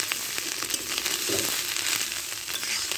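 Bitter gourd and fish roe fry in a pan, giving a steady close sizzle with light crackle and occasional stirring, and no talk.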